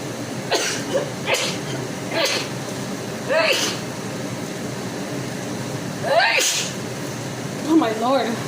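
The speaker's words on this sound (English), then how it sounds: "Sneezed too much, you guys." Someone cooking carne con chile in a kitchen sneezes repeatedly, with about six sharp bursts spaced a second or two apart. A quiet room hum sits between them.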